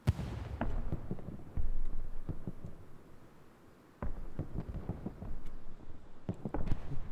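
Artillery and gunfire in a Utah Beach video game match, a dense run of booms and sharp shots, some near and some distant, with a brief lull before the firing resumes.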